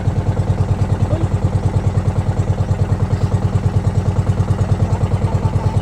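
A boat engine chugs steadily in a loud, close, rhythmic low thump among mangroves, running continuously with no voices.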